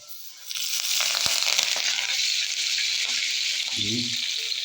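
Curry leaves tossed into hot oil with cumin for a Belgaum-style crab dry masala, erupting into a loud, close, continuous sizzle after a brief quiet start, with a few soft clinks near the end.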